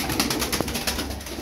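Pigeons cooing, a crested tumbler or performing breed, with soft low coos over a steady outdoor background, moderately close and without talk.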